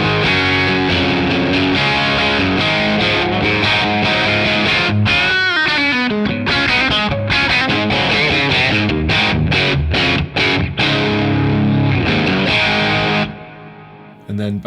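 Electric guitar through an Origin Effects Revival Drive Compact overdrive pedal at its Marshall-at-noon cranked plexi setting, playing loud, continuous distorted chords and riffs with sustained crunch before cutting off near the end.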